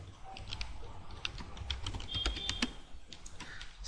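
Quiet, rapid clicking of a computer keyboard as an SQL query is typed, with irregular keystrokes close by and no talking.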